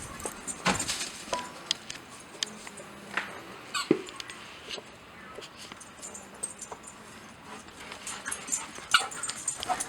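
A dog plays outside a workshop, with jingling tags, small whimpers and yips, and scattered thumps in an irregular, busy stream. A voice is faintly present.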